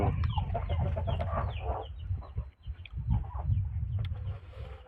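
Several chickens cluck steadily close by as they squabble over food, a dense overlapping chatter with a brief dip midway.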